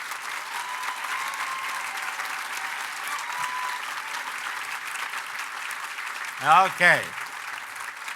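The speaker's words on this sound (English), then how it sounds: "let's give them a round of applause right away" Audience applause greets the guests of honor at a mayors' dinner, a steady crowd clapping that fills the room throughout, with a short spoken word near the end.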